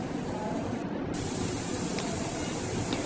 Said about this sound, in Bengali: এই যে সিঙ্গারাগুলো তেলের মধ্যে দিয়ে দিছি